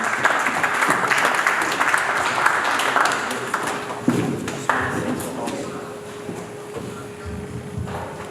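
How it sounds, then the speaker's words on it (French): Applause from a community gathering of a Kasai family association in Maine, a dense burst of clapping for the first few seconds that thins out, with voices and scattered sounds underneath. "est-ce que nous pouvons l'accompagner avec des applaudissements?"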